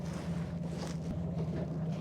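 A boat carries riders out from Dhublagadi Sea Beach in Odisha, its engine droning in a steady low hum under continuous wind rush, with no talk.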